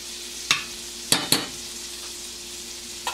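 Butter sizzles in an overly hot frying pan with a steady hiss, broken by a few sharp scraping clatters near the start and a faint tap at the end.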